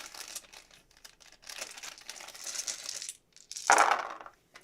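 Large plastic board-game dice rattle and clatter in a series of scattered clicks with crinkling packaging noise, ending in a louder tumbling burst, close by.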